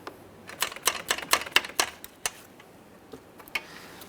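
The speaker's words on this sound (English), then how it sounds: "To remove these, I'm going to use an 8mm headed ratchet wrench." An 8mm ratchet wrench clicks in quick bursts while removing bolts on a 2007-2017 Jeep Wrangler 3.6L V6 during radiator work, with close, sharp ticks that thin out toward the end.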